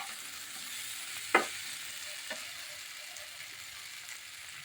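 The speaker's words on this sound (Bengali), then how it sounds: "এই যে আর একটু কষিয়ে নিচ্ছি। অল্প আঁচে সুন্দর করে ভাজা ভাজা করে নিচ্ছি।" Flat beans, potato and spices fry on low heat in a quiet, steady hiss, with a single stirring scrape and a fainter knock later on. No one speaks.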